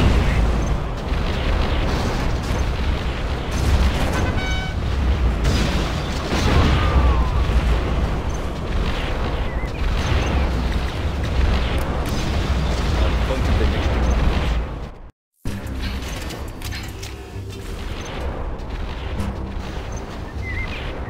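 Scud launcher missile strikes and battle explosions in Command & Conquer Generals make dense, continuous rumbling blasts and booms with a brief dropout, loud and busy throughout, with in-game voices heard over the fighting.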